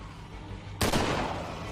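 A rifle fires in The Walking Dead: Survival Instinct, a single sharp, loud blast that breaks a low quiet hum and trails off into a broad rumbling decay.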